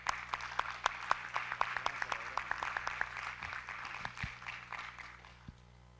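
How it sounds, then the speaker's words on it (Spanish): An audience applauds to welcome visiting prosecutors from the United States, a burst of clapping with distinct sharp claps that grows dense, then thins and fades toward the end. "Un aplauso para ellos, por favor."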